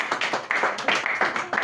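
A church congregation claps together in a steady, fairly brisk rhythm, with the sharp hand strikes close and loud and repeated throughout. A faint voice shows up under the clapping.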